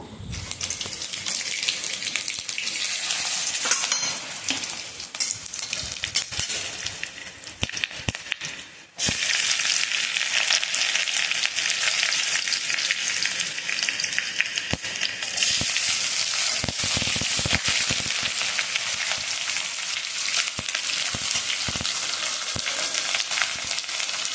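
Soaked chickpeas fry in hot oil for tempering with a steady, close sizzle and crackle, punctuated by occasional stirring sounds.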